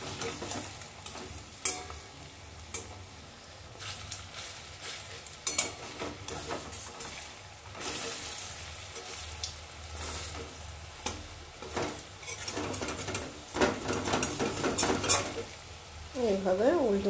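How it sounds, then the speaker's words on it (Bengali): Green bean pakoras sizzle steadily in hot oil in a pan as they are turned one by one, with intermittent scraping and knocks of a utensil against the pan. "এবার লাল লাল করে ভেজে নেব"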